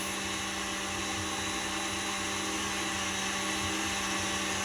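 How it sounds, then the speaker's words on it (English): An electric hand mixer runs on high, beating a chess bar batter in a bowl with a steady, loud, unbroken whine and hum that lasts throughout, with no voices. "I'm gonna beat it for about 30 seconds on high."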